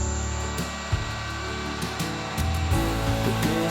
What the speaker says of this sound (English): using the belt sander we can clean those up